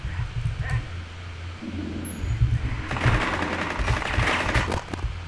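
Gunfire in the video game Rainbow Six Siege, a quick burst of sharp reports rattling out after a quieter stretch of low rumble, close and fairly loud, with no speech.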